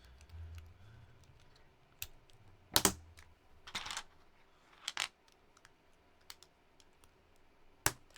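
Typing on a custom keyboard fitted with clarified keycaps, quiet sparse keystrokes and short clacky bursts at an irregular rhythm in a calm room.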